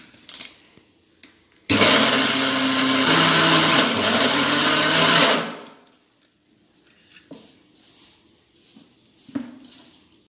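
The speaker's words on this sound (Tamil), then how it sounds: "இப்போ மிக்சியில் அரைச்சி எடுத்துக்கலாம்" A mixer grinder jar whirs loudly as fried gram is ground into flour for sathu maavu, a dense roar of a few seconds that then stops, leaving faint handling clatter and knocks.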